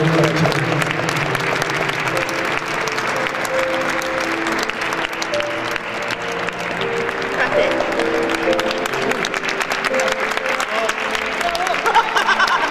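A concert audience applauds a choir arriving at a year-end pop tenor show, sustained loud clapping throughout with voices talking and calling over it.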